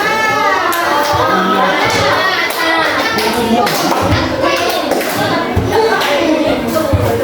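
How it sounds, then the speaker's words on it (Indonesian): Ninth-grade students at SMPN 7 Sungai Raya clap together in counted patterns of one, two and three claps, sharp close bursts of hand claps repeating throughout amid children's voices. "Tepuk satu, dua, tiga."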